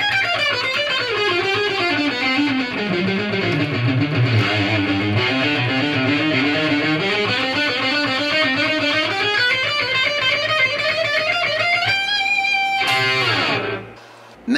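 Loud distorted electric guitar plays a long, fast Phrygian dominant shred lick, descending then ascending in rapid note runs and sustaining nearly throughout before cutting off near the end.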